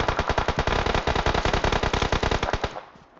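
Rapid bursts of video game automatic gunfire crackle loudly and continuously for about three seconds, then cut off abruptly into quiet.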